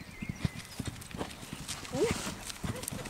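A horse moves along with a steady clip-clop of hooves and a brief whinny, close by, while people talk over it.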